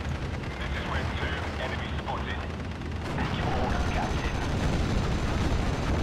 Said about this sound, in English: we set the other Churchill to fire.